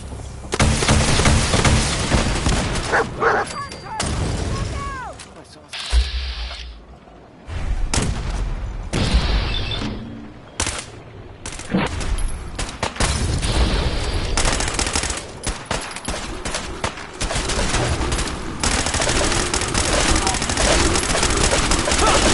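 Gunfire in Fallout 4 during a fight in fog, with dense, loud volleys and rattling bursts, a few quieter pauses and booming impacts, and voices shouting through the action.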